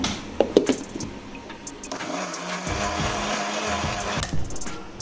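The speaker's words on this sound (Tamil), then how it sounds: "தேங்காய் பால் ஊற்றி ஊற்றி தான் நம்ம இப்போ அரிசியை அரைக்க போகிறோம்" Mixer grinder running with a steady motor whine as soaked rice is ground with coconut milk poured in bit by bit, a continuous close, fairly loud drone with brief knocks and clatter at the start.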